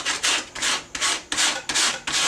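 A wood rasp is drawn in firm strokes across a wooden ergonomic form, giving six even, rhythmic rasping scrapes in quick succession, close and loud, with no talking.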